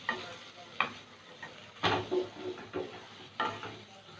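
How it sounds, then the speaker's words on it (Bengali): Potatoes are stirred into a fried spice paste in a pan for a green banana kofta curry: soft sizzling underlies several distinct scraping strokes of the spoon, spaced at roughly regular intervals, fairly quiet and with no voices. "আলুটা মশলার সাথে মিশিয়ে নেব।"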